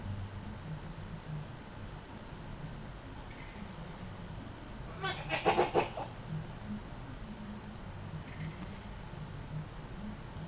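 A person mimics a sheep's bleat with a short, wavering burst of voice in the middle, over a steady hum of airplane cabin noise.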